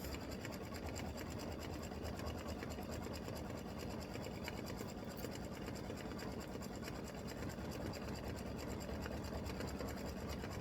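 An embroidery machine works a satin stitch on an appliqué, giving a faint, continuous, even buzzing hum throughout with no voices.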